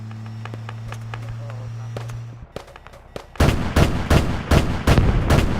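Gunfire and explosions in a Roblox game: a steady hum gives way to scattered sharp bangs, then a loud rapid burst of repeated gunfire and blasts dominates the end.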